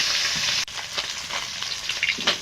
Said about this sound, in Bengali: মাছগুলো আমি উল্টে পাল্টে ভেজে নেব